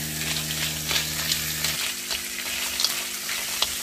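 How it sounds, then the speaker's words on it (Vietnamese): Ba khía crabs, already fried, stir-fried in a pan with their roe and claws, giving a steady close sizzle with small scraping stirs; a low hum drops away midway. "Tại càng và gạch này nó còn sống đó, xào cho chín và thơm lên."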